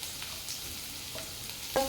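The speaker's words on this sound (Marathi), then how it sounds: "कांदा सुद्धा छान परतून घ्यायचा आहे" Chopped onion sautés in a pan for corn fried rice, giving a steady close sizzle with faint stirring scrapes throughout and a brief utensil clink at the end.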